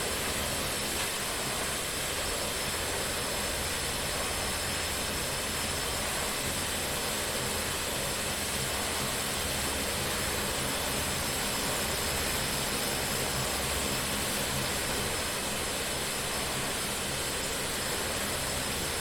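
Saab 340A turboprop taxiing on the ground in the X-Plane 11 flight simulator, a constant broadband engine roar and hiss that stays even and unchanging throughout, with no talk.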